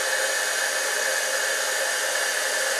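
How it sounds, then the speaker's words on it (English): A Stampin' Up heat gun used for heat embossing blows a loud, steady, hissing whoosh of air that runs unchanged from start to finish, close by and with no talk over it. "this is my Stampin' Up heat gun, and I'm going to turn it on. It's loud."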